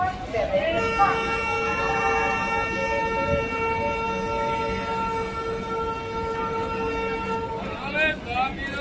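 A train pulls into platform 7 at Ambala Cantt railway station, a long sustained horn tone sounding over rumbling wagons and station noise, with voices talking around it.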